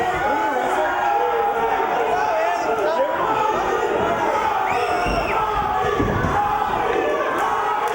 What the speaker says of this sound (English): Very vocal crowd here for the Westcoast Heavyweight Championship between Gatson and Romero.